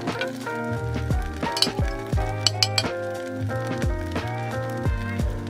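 Sugar and butter are stirred in a pan over low heat while making dulce de leche from condensed milk, with spoon clinks and scraping heard repeatedly beneath steady background music.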